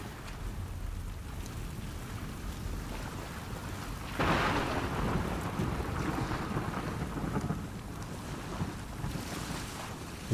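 Thunderstorm in The Last of Us Part II, heard from a boat: a steady roar of wind and rain-lashed water swells into a heavier crash of thunder partway through, then rumbles on at that level, with no talk.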